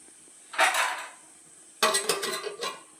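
A metal idli steamer pot is set down on a gas stove with two separate bursts of clanking and rattling, one short and one longer, close and fairly loud with quiet between them.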